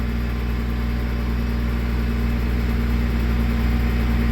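A 1990 Peterbilt tri-drive log truck with a 600 Cummins engine idles steadily close by, a constant deep diesel drone that holds at the same level throughout.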